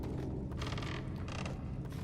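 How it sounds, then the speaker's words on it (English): Loose floorboards in Little Nightmares give a couple of drawn-out, groaning wooden creaks at close range over a dense low rumble of ambience. "Creaky floorboards."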